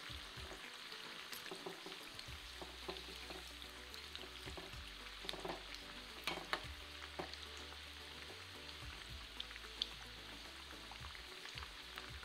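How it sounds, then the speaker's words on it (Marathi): Crispy potato fritters coated in batter with rice flour deep-frying in oil, a quiet, steady bubbling sizzle with scattered small pops and crackles, heard close and alone. "आपण हे दुसऱ्या साइडने व्यवस्थित तळून घेऊ"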